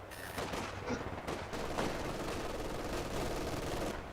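Steady small-arms gunfire in the Iron Harvest battle game, a dense run of rapid shots and bursts that carries through the whole stretch at a fairly close, loud level.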